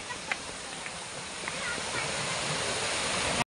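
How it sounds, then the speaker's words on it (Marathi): A small waterfall near a hilltop Sai Baba temple at Nandgaon, a steady broad rush of falling water that swells slightly toward the end, heard close and continuous with faint voices of a family outing. "फायनली धबधब्यावर पोहोचलो आहोत"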